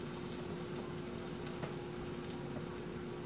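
Salmon searing in a hot pan, a steady close sizzle and crackle of frying oil continuing evenly without pause.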